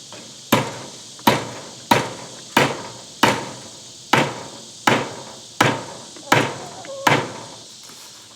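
A hammer drives a nail into wood in about a dozen sharp, evenly spaced strikes roughly every 0.7 seconds, each a loud close crack with a short ringing decay.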